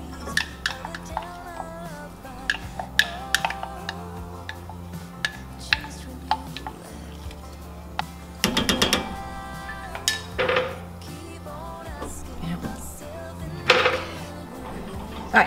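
Stirring coconut milk and cornstarch into a vanilla custard for banana pudding in a pot: a utensil clinks and scrapes against the pot in irregular taps, with a brief louder burst of clattering midway, quiet and close.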